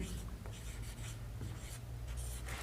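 Pen or chalk writing by hand during a math lesson, a close, continuous scratchy rubbing with short strokes and brief pauses, loud and steady throughout without talk over it.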